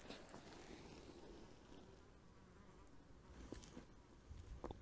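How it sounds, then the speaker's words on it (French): Flies buzz steadily and faintly in an outdoor setting during a yoga session, the insect drone continuous with occasional closer passes. "Alors le problème c'est qu'il y a des mouches."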